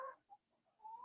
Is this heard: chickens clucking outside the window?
yes